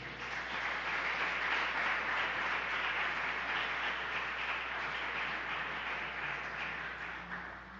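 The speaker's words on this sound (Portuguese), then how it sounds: "Aplauda ele." A church congregation applauds in a sustained, even wash of clapping that carries on without pause, with no talking over it.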